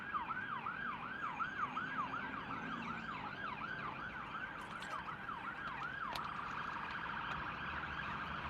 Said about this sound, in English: here comes a police car or something